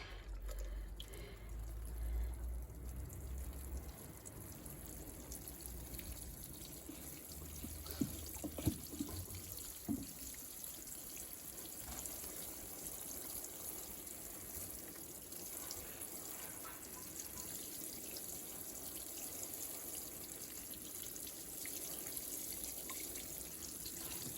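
Water trickles and patters steadily while a garden is watered, a faint continuous wash with a few brief clunks partway through and no speech.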